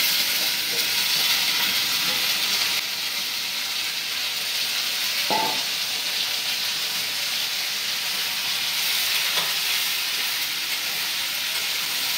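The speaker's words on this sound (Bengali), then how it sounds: "তো আজকে শুধুই করলা ভাজবো।" Bitter gourd and potato pieces with onions fry in a pan, giving a steady, even sizzle that holds the whole time, with a faint clink of a utensil partway through.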